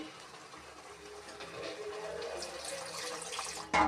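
Water is poured into a cooking pot of spiced cauliflower curry gravy, a steady splashing pour that builds in strength, ending with a sudden louder gush, with no talking.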